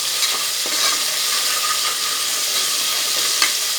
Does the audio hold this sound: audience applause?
no